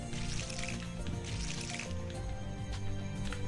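Crops are watered in the Monster Harvest video game with a steady liquid splashing and dribbling that runs continuously at moderate volume under busy game sound.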